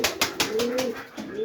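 Domestic pigeons coo nearby as they feed a young wild pigeon chick being hand-raised, soft repeated low calls with a few sharper bursts at the start.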